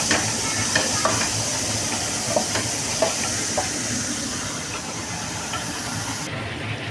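Ground ginger-garlic masala paste frying in a pan, a steady close sizzle and hiss with faint stirring clinks, continuous throughout.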